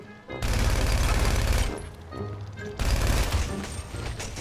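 Rapid bursts of automatic gunfire in the video game GTA V, two loud sustained volleys separated by a brief lull, harsh and close, with no speech over them.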